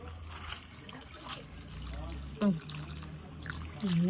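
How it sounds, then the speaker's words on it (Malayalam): Boiling water pours and trickles steadily into a pot of rice for majboos, with a few clinks and background kitchen noise. "തിളച്ച വെള്ളമാണ് ഒഴിച്ചു കൊടുക്കുന്നത്"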